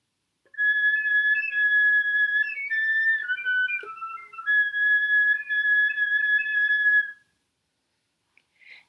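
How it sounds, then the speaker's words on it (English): Thin, pure whistle tones played on an instrument trace a slow melody, clear and close, then stop before a brief faint sound near the end. "you can play that entire melody on a whistle tone if you so"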